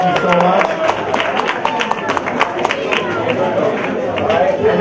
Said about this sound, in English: Let's give Chef Nelson and them a round of applause for feeding us.